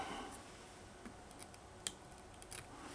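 Scissors snip marabou feather fluff from a steelhead swing fly at a tying bench, a few quiet, crisp clicks close by against a near-silent room, with one sharper cut standing out.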